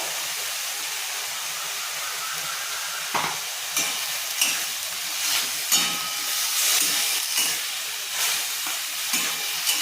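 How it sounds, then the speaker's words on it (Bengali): Potatoes seasoned with salt and turmeric fry in a pan, a constant close hiss of sizzling oil with occasional louder crackles and stirring scrapes. "আলুটা ভাজা ভাজা হতে থাক"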